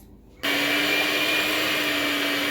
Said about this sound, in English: I'll be using a hand mixer to mix